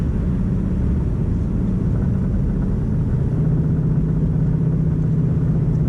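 A 2018-2019 Ford Mustang GT with headers, intake and active exhaust in track mode rumbles steadily with a deep, continuous exhaust drone, loud and close, with no voices.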